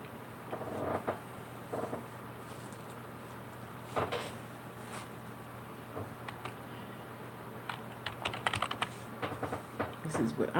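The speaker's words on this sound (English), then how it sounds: "This is what I'm going to do while Mark is typing about his business" Someone types on a computer keyboard, producing scattered clusters of light, quick key clicks at a moderate distance. The typing stops and restarts irregularly over a steady low hum, with occasional faint knocks.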